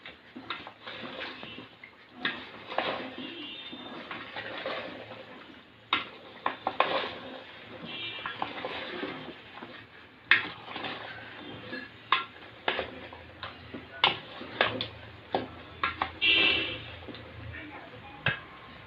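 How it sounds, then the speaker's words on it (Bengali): Beef simmering with raw green jackfruit in a curry pot is stirred, giving intermittent metal-on-pot scrapes and clinks in an irregular rhythm, close and moderately quiet over a faint background hum. "এখন ভালো করে নেড়ে চেড়ে দিতে হবে।"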